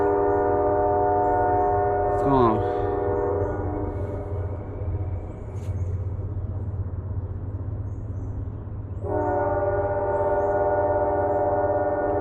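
A train comes through at night near a coyote trapping spot, its horn sounding a long, steady blast with a brief pause before it resumes, over the rumble of passing railcars, while someone briefly speaks.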